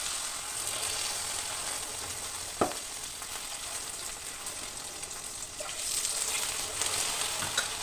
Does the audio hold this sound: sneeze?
no